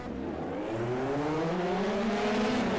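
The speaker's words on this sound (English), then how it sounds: "God, these cars sound like they bog down off the line, don't they?" Formula 3 race cars launch off the line at Watkins Glen in a sim racing game, engines rising in pitch together as they accelerate, a dense layered roar that climbs steadily without talk.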